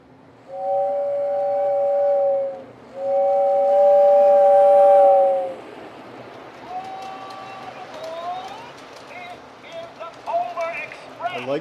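A Lionel model train runs past a snowy miniature house, giving two long, loud whistle blasts followed by a softer, shorter toot over a low running rumble, with scattered clicks toward the end.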